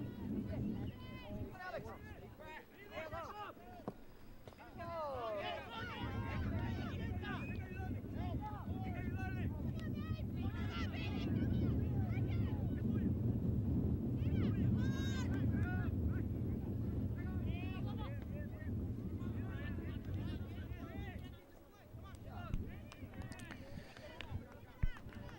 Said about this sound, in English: the wind gusts here in the second half just as powerful as they were in the first half